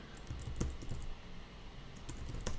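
A password is tapped out on a computer keyboard in two quick bursts of soft, close clicks separated by a short pause, faint and with no talking.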